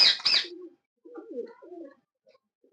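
A golden champion pigeon coos close by: a burst of flapping or rustling comes first, then soft, low, rolling coos, with no talk.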